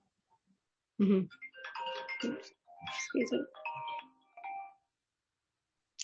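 A phone ringtone chimes in short melodic bursts indoors while a person speaks over it, with a brief tone returning at the end.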